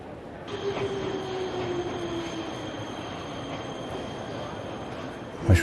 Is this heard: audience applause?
no